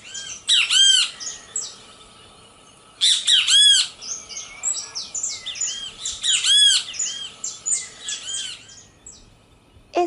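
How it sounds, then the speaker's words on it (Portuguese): Sabiá thrush singing alone in three bright bursts of rich, looping phrases and squawky chirps, loud and close, with short quiet gaps between the phrases. "Podemos perceber que aqui temos o sabiá."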